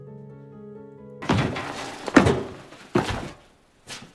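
Several dull thumps and bumps from someone jumping on a bed, landing in an irregular rhythm of three or four impacts, close and fairly loud with no talk.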